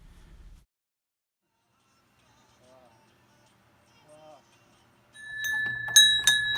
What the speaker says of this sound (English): Come and get it. Dinner bell.